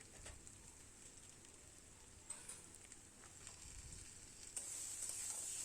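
Ginger paste frying in a pan over a medium gas flame for lau chingri, a soft close sizzle with occasional stirring scrapes that grows brighter and louder near the end.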